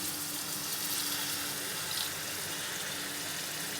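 Steady running water pours continuously into a cooking pan with green chilies and ginger, a soft broadband splashing hiss that stays even for several seconds with no voices.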